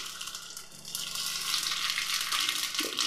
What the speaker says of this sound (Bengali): এবার দিয়ে দিচ্ছি সর্ষে।